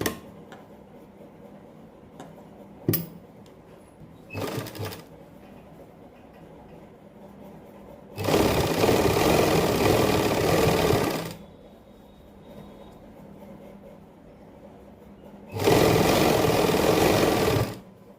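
A sewing machine stitches lace onto the edge of a dupatta in two long bursts of steady whirring, with a few faint clicks and handling sounds during the quiet gaps between runs.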